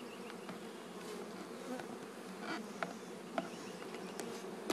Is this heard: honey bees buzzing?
yes